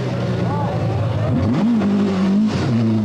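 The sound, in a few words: Datsun Silvia rally car driving past, RAC Rally 1982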